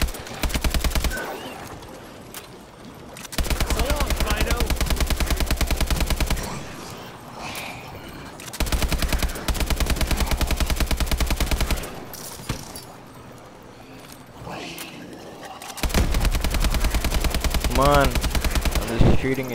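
Automatic gunfire fills the video game Advanced Warfare Exo Zombies in long, loud, rapid bursts, several of them separated by short pauses.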